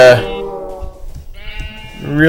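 Sheep in Minecraft give short bleats at the start and end, close and loud, with a voice talking in the quieter stretch between them.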